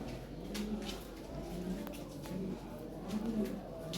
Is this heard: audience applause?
no